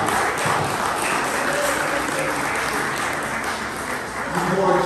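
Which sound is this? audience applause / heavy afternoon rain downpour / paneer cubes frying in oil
audience applause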